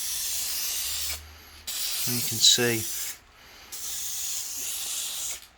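Aerosol spray can hisses in two sustained bursts, coating carbon fibre A and B car pillars, loud and close, separated by short pauses, with someone briefly speaking between them.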